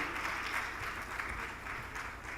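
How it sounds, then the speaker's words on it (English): Audience applause at an Erasmus+ pre-departure orientation event, honoring a minister of youth development: a steady, dense wash of many hands clapping, even in level throughout and with no voices over it. "Please, another warm applause for him."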